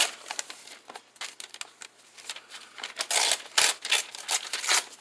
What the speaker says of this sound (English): I'm just going to tear that page out